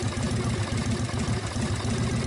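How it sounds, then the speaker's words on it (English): Harley-Davidson motorcycle engine fitted with an S&S carburetor, just kickstarted and idling, gives a steady, close, loud low-pitched chugging rumble with an even pulsing beat throughout, no voices. "kickstarting is where you actually start your engine by pushing down on the pedal with your foot"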